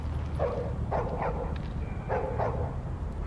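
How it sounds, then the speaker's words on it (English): A dog barks in short bursts of two or three yips, fairly close and moderately loud over a low background hum, with no talking. "Hey, no doggy."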